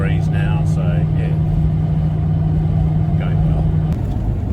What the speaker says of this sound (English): Just driving through Yass now, and car's running really well